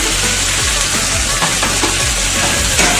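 Spice powders (cumin, coriander, garam masala) stirred into potato curry frying in a pan, a steady loud sizzle with scraping stirs throughout, close up and with no talk.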